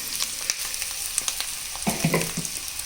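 Soaked sago tipped into a hot pan with ground peanut and salt, a steady close sizzle with scattered sharp crackles and a short burst of stirring clatter toward the end.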